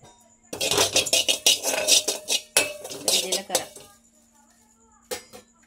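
Cumin seeds go into a hot pan, a busy run of metallic clinks and rattling against the pan, loud and close, then a pause and one last brief clatter.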